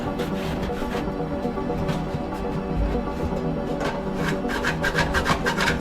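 A hand tool scrapes loose plaster from the edges of a repaired lath and plaster ceiling, giving a steady, close, continuous rasping scrape with repeated strokes and no voices.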